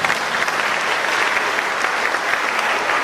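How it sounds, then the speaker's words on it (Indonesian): A church congregation applauding together during a worship service, dense steady clapping that fills the room at a constant level for a few seconds with no pauses. "Tepuk tangan untuk Tuhan kita."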